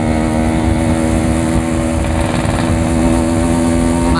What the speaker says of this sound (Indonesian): motor gue kadang masih ngeberbet,